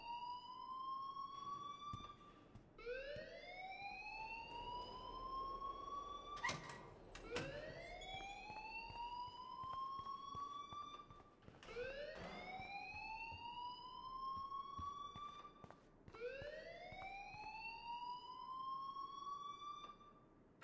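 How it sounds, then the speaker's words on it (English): A school fire alarm in the video game Life is Strange sounds as a repeating electronic siren, each rising whoop sweeping upward about every four seconds, steady and fairly loud with no talking. "please turn off that alarm since that's your job"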